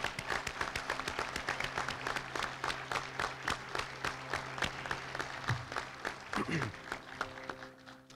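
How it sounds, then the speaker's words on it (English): An audience applauds at the 2015 Alaska District change of command ceremony. Many hands clap in a steady, dense patter that continues throughout, moderately distant and fairly soft, with faint voices underneath. "Would everybody please join me in a round of applause for my wife, Tracy?"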